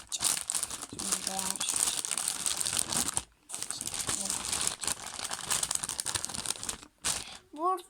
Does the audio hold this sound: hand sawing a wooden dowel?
no